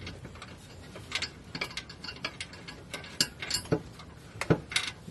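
Wrench ratcheting at the corners of a Chevy box truck during a UMI driveshaft loop install, heard as a series of close, sharp metallic clicks and clanks in uneven bursts, with no talk.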